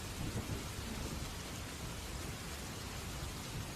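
Heavy rain pours down continuously in a stormy night scene, its dense hiss mixed with low rolling thunder, steady and close throughout with no voices.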